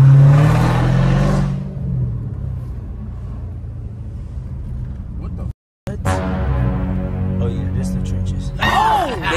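Car being driven, a rumbling engine that revs up and whirs, shifting pitch as it accelerates, with voices talking in the cabin.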